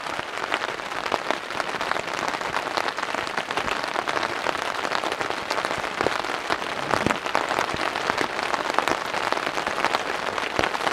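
Heavy rain falling on a campsite in a deep forest, a dense, steady hiss of drops pattering on surfaces close by, unbroken for the whole stretch with no voices.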